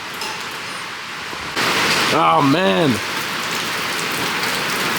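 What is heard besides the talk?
rain falling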